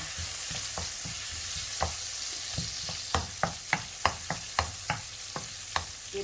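Wild garlic being stir-fried in a hot pan, with a steady sizzle broken by a string of sharp spatula scrapes and knocks that come faster and louder toward the end.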